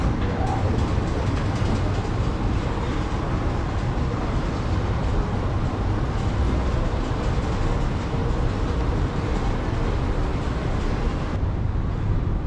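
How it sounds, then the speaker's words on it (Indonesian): A steady, loud rumbling roar of a passing light-rail train in Bangsar, Kuala Lumpur, broadband and continuous throughout, with the noise dropping slightly near the end. "LRT ada di sebelah sana."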